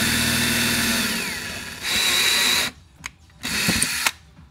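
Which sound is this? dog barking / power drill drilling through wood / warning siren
power drill drilling through wood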